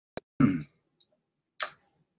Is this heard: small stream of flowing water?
no